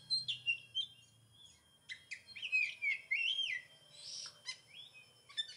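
Magpie robin (kacer) perched in a tree, giving a run of clear, bright chirps and whistled phrases in bursts, fairly close and distinct over a quiet outdoor background.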